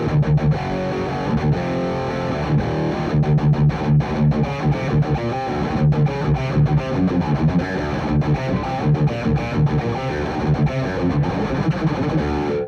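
A six-string electric guitar plays chugging metal riffs through a Chug distortion pedal with the middle knob fully down, giving a loud, continuous, heavily distorted tone with rhythmic palm-muted bursts.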